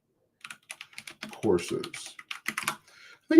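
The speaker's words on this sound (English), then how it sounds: "I think I typed in Excel" Key clicks from typing on a computer keyboard, rapid irregular taps under and between a man's speech, fairly close.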